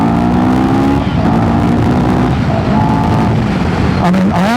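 A CFMoto CL-X Adventure motorcycle engine accelerating in street mode, loud and close, revs climbing steadily with gear changes, under wind noise.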